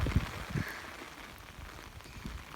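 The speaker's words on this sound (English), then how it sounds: "It's starting to pour." Rain pouring outdoors along an empty road, a soft, steady hiss of drops punctuated by a few low thumps and patters, fairly faint and without any voices.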